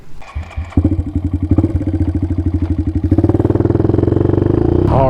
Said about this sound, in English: It just looks like a straight up dirt bike that I'm riding on the street now.